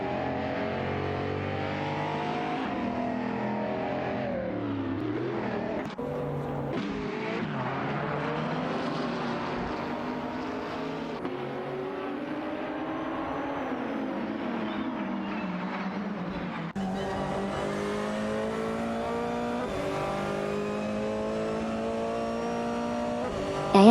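Video game race cars, an Audi and a Ferrari 488 GT3, roar around a track in a continuous engine drone, pitch climbing and dropping with gear changes as several cars blend together.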